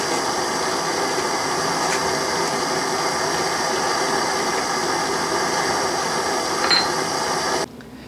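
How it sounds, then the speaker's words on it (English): A MAP gas torch heats a wheel on a shaft, giving a loud, steady, even roaring hiss close by with almost no change. It cuts off abruptly near the end. "Just a minute or two with the map torch. We'll heat it up enough to remove"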